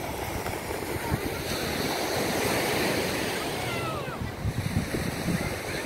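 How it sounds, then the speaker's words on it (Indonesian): Evening surf at Padang beach, Indonesia: continuous broadband wash of breaking waves with wind buffeting the microphone, a swell peaking midway and softer rumbling afterward, with no speech over it. "Dia ombak dari Pantai Padang"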